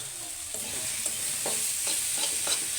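Leafy chickpea greens being stirred in a sizzling pan, with a steady hiss of frying beneath a handful of distinct scraping strokes from a spatula, close and fairly loud, with no voices.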